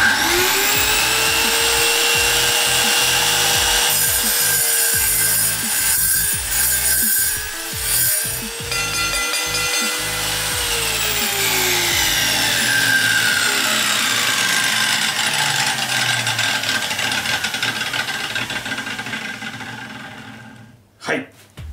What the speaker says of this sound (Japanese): ではチップソー切断機で切断してみます。